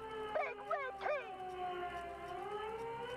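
A police siren from the Disco Elysium video game wails in a rising and falling sweep, then holds a steady sustained tone. It plays loud and continuous over a low background hum.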